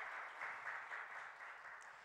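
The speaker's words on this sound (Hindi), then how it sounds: "तालियां।" Audience applause at a literature festival session welcoming a playwright and poet, a faint, distant, steady patter of clapping spread across the whole moment with no clear voices.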